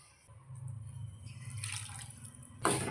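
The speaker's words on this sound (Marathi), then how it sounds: "आणखीन थोडंसं पाणी मी ह्याच्यामध्ये ॲड करतो" Water is added to a pan of sprouted moth bean curry being cooked as a thin gravy, a soft continuous pouring and trickling that runs steadily, close up, and ends in a brief louder splash.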